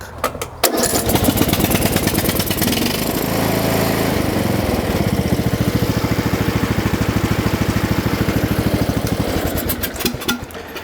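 A lawn tractor engine that runs too rich starts with a short burst of cranking, then settles into a loud, steady, rapidly pulsing running note heard up close for about ten seconds, with no talking.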